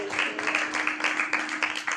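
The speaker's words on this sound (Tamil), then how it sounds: "கைத்தட்டுங்க பார்க்கலாம்." Wedding guests clapping together in a hall, a dense, rhythmic round of applause with evenly spaced beats, moderately loud and steady throughout.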